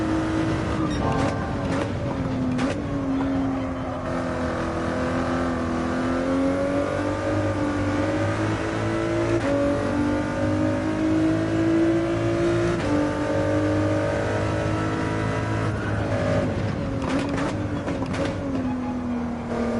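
A loud game race car at Abu Dhabi drones steadily for a long run, its engine pitch dipping and climbing through gear changes and corners, with brief clicks and blips near the start and end.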